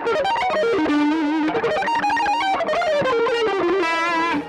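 An electric guitar plays quick melodic lines through distortion and delay effects, notes shifting rapidly and blurring into sustained, echoing tones, loud and continuous with no talking.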